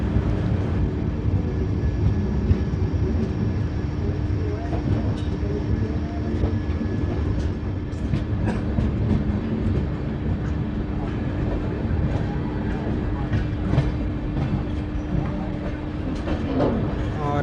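The Samta Express passenger train pulls out of Ambodala station after a short halt and runs along the rails with a steady, loud rumble and a continuous wheel roar, punctuated by faint rhythmic clicks, heard close from inside the carriage.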